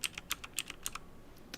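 Quick, crisp clicks of keys being typed on a computer keyboard set to sound like a typewriter, an uneven burst of keystrokes close by in a quiet room.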